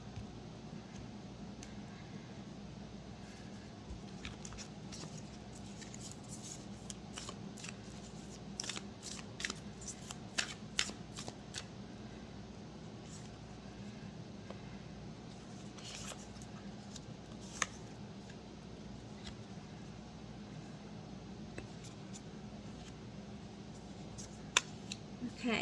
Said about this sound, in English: I'm just going to shuffle these a bit.